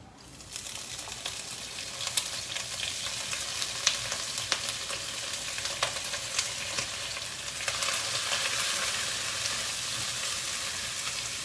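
Oil heating and sizzling in a wet pan while preparing paofan, a steady bright crackle with scattered pops and spits that swells slightly louder toward the end, with no voices.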